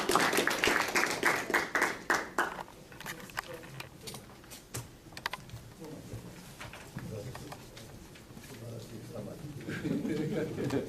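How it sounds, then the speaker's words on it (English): Applause from a conference audience in Tokyo breaks out briefly and dense, then thins out within a couple of seconds and gives way to quiet room sound and talk. "Please applaud."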